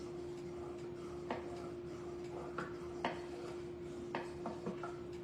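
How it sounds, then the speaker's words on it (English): Spoon clinks and scrapes against a pot while strawberry compote is stirred, a few faint taps spaced out over a steady low hum, with no talking. "So we're going to keep stirring it for a couple more minutes until it gets about that clear state."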